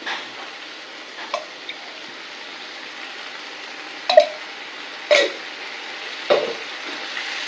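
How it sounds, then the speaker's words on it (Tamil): Grated coconut and lentils sauté in oil for a snake gourd curry, a faint steady hiss punctuated by a handful of scattered spatula scrapes and knocks on the pan. "இதை வதக்கணும்."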